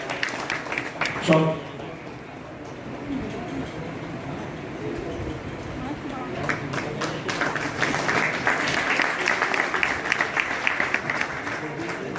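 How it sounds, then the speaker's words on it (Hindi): Scattered audience clapping during a welcome ceremony at a bar association oath event in Agra, a brief burst early then steadier, denser applause building through the second half, with voices mixed in. "स्वागत के साथ तालियां भी बजती रहनी चाहिए"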